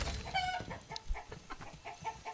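Chickens cluck in a village setting in Manor Lords, several close, busy clucks and squawks overlapping in an irregular rhythm for a couple of seconds.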